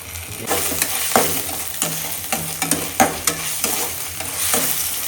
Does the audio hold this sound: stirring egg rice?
yes